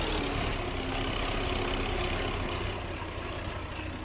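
Small tractor engine running steadily in Farming Simulator 25 while working a stony field, a constant close low rumble with no voices over it.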